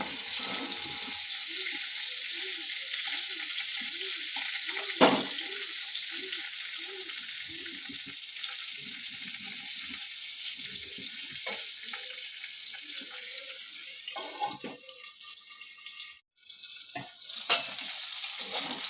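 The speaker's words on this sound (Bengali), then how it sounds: "আমাদের ফুলকপিটাও প্রায় ভাজা হয়ে গেছে" Cauliflower fries in a pan as a steady, close hiss runs throughout, with rhythmic scraping and stirring strokes and a brief clatter near the end, and no talk.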